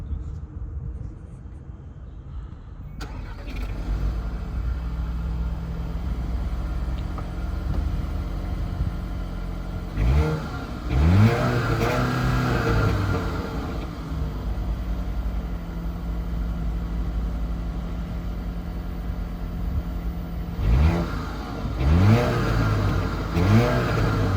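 A 2023 Audi A5 S-Line engine idles steadily near the microphone, with two short sharp revs rising and falling, one around the middle and another near the end.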